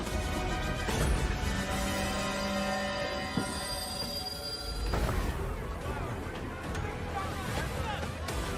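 A train running in the Last Train Home video game trailer, set after World War I: a continuous rumble of rolling wheels with a long metallic squeal and a sharp clank partway through, under a narrator's voice.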